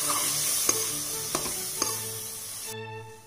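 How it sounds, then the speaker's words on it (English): Yogurt is stirred into fried onions and spices in a hot pan for chicken do pyaza, with a constant sizzle and three clear spoon scrapes and taps before the sound drops to a quieter hum at the end. "After adding the yogurt to the curd, you can then mix this really well with the onions."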